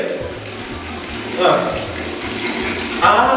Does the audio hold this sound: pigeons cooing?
no